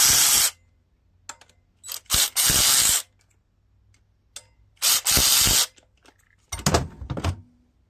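A ratchet wrench loosens the carburetor mounting nuts on a John Deere Z445 zero-turn riding mower in several short, sharp clicking bursts separated by pauses, close up, with faint handling knocks between them.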